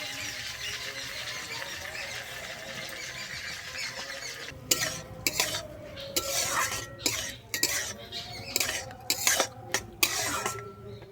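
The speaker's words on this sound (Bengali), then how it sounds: "আমি এবার এই চালটাকে ভেজে নিচ্ছি" Drained gobindobhog rice stir-fries in hot ghee in a pan. A soft sizzle at first gives way to irregular spatula scrapes and metallic clinks against the pan, close and moderately loud.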